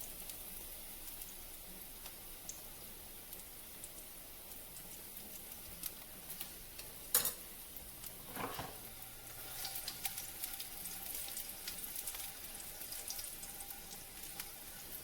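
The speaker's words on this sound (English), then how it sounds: "garlic smells so good when it's sauteing" Garlic sautéing in a pan, a faint, steady low sizzle with a couple of brief clinks and a soft watery hiss, heard alone and fairly quiet.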